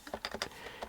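Quick burst of keystrokes on a computer keyboard, close and crisp, several light clicks in an uneven rhythm.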